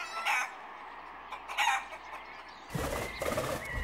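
Chickens cluck in short bursts while a rooster crows, all fairly faint and distant over a steady background hiss, with a louder, busier stretch of clucking near the end and no talking.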